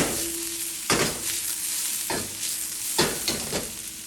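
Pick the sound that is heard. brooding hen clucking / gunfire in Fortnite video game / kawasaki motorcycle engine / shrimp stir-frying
shrimp stir-frying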